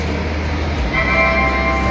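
Loud low rumble of the Bikaner Express idling at a station, with a steady mechanical hum and a faint tonal whine rising partway through.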